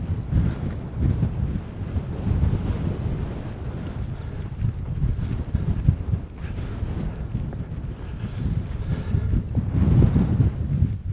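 Wind buffeting across open fell top on Ling Fell in the Lake District, a steady rumbling roar with gusty swells in strength, loud and close on the microphone, no voices.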